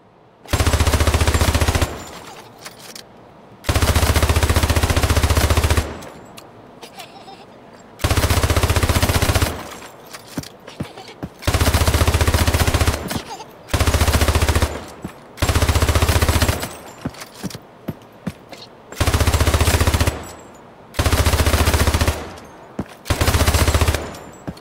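Weapon fire in the PC shooter game Hyper Charge Unboxed, heard as repeated loud bursts of rapid automatic gunfire, each lasting a second or two, separated by short pauses.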